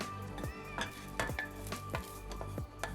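Crushed garlic cloves stirred in a hot pan for a masala dosa spread, a soft sizzle broken by repeated scraping strokes of a spoon against the pan at a steady rhythm, fairly quiet and without talk.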